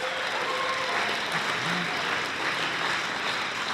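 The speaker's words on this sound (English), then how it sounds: "thank you for those applause" Dense, steady applause from the audience at an Alcoholics Anonymous speaker meeting in Las Vegas fills the room, loud and sustained without a break.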